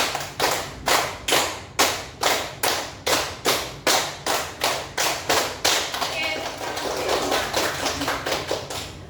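A classroom group claps a long, steady run of unison hand claps for an ice-breaker, about a dozen and a half sharp beats in quick regular rhythm, growing denser and less tidy toward the end.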